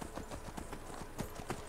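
Rapid clip-clop of horse hooves at a steady gallop in the video game Skyrim, close and fairly loud, with a rough outdoor ambience and no talking.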